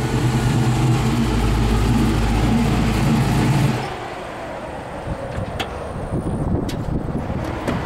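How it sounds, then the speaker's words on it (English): A fully modified Chevrolet Monte Carlo SS engine, a loud steady drone from inside the car that drops off abruptly midway to a quieter rumble with wind noise. "test drive in Mark Mezzador's fully modified Monte Carlo SS"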